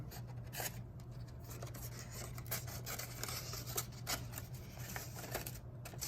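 Soft, steady snipping and rubbing of scissors through paper, close and quiet, continuing in small irregular strokes with a low hum underneath.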